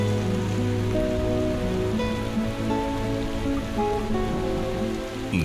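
Steady rain falls in Cádiz, a dense, continuous patter of drops on surfaces that stays loud and even throughout with no voices.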